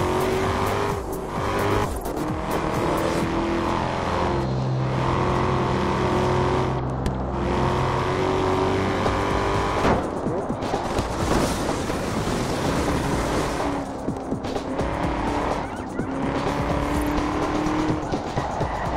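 Cars racing lap after lap on an all-asphalt circuit in Forza Horizon 3, engines roaring continuously with rising and falling revs, tire squeal and cars whooshing past, loud and dense throughout.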